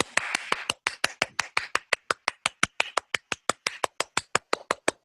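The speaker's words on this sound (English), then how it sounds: "45 minutes, Scott will be clapping" Hand clapping at a steady, fairly quick rhythm, about five claps per second, sharp and close, continuing for the whole stretch.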